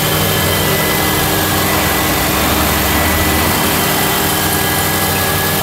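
A 2003 Subaru Outback AWD engine idling under the open hood: a loud, steady hum and whir that holds smoothly and evenly throughout, heard up close with no voices.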